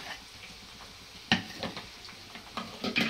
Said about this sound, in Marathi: मसाला चांगला परतून घ्यायचा आहे, मस्त तेल सुटेपर्यंत परतून घ्यायचा